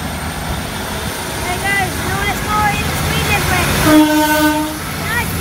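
Passenger train 15247 rumbles past close by at Highbridge and Burnham station with steady mechanical noise, a horn-like tone sounding briefly near the end.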